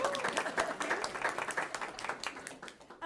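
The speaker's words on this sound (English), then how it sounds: "we'll clap for Kobe Hewitt." Applause from an audience at a board meeting, dense and steady for about three seconds, with individual claps standing out at moderate volume.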